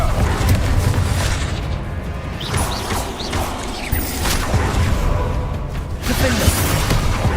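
A Confringo fire spell from Hogwarts Legacy detonates amid continuous game combat, loud dense booms and crashing rumble filling the whole stretch with sweeping whooshes.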